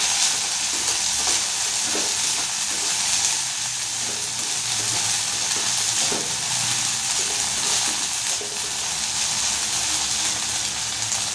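Sago and mustard seeds stirred in a hot pan give a steady, close sizzle and frying hiss with faint scraping strokes throughout, no voices.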